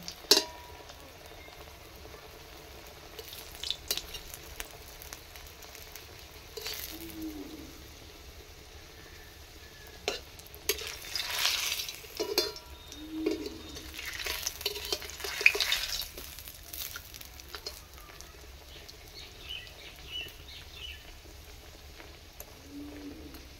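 A Mughlai paratha fries in a pan: a quiet, continuous oily crackle with louder hissing surges now and then, heard mostly on its own.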